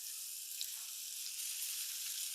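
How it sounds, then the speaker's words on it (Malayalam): Fish and sprigs of curry leaves fry in hot oil with a steady, close, hissing sizzle that stays loud and even throughout, with no voices. "എണ്ണയൊക്കെ ചൂടായിട്ടുണ്ട് ഇതാ രണ്ട് തണ്ട് കറിവേപ്പിലയും കൂടി ഇട്ടു അതിനകത്തോട്ട് മീൻ ഇങ്ങനെ ഓരോന്ന് പെറുക്കി ഇടാവേ"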